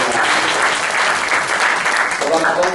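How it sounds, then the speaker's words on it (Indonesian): Church congregation clapping together, loud and close, a thick continuous burst of applause filling the short stretch with a few voices mixed in. "mari kita kasih tepuk tangan yang terbaik"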